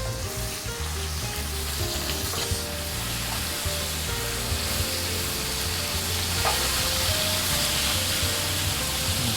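Whole garlic cloves, fennel, carrot, leeks and onions frying in a pan after seared lamb, a loud, dense sizzle running continuously up close with faint background hum.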